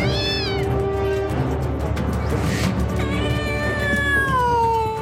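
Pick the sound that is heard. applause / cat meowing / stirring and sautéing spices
cat meowing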